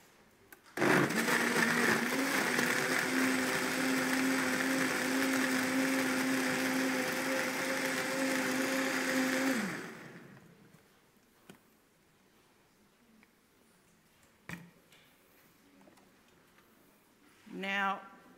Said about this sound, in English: So you can do this with whatever blender you have.